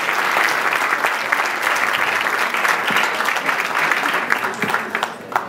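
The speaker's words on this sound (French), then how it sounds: "Allez encore, un tonnerre d'applaudissements." A crowd at an honorary tribute ceremony in Brussels claps loudly and steadily in sustained applause, a dense wash of hand claps close by with no voices standing out.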